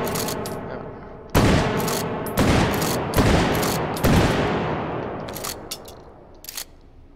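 Several loud, sharp gunshots from a firearm in the virtual-reality shooting game H3VR, spaced about a second apart with echoing tails, followed by fainter clicks and handling noises.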